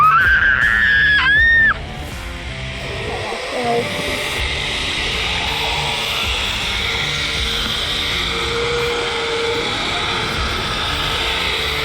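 A person screams loudly while sliding down a zipline inside an underground cave, a high rising shriek in the first two seconds, then a constant whirring trolley and rushing noise that continues to the end.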